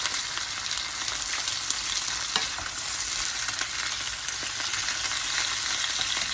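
Lechon paksiw fries in a pan with a bright, continuous sizzle and occasional stirring scrapes, close and steady throughout with no voices.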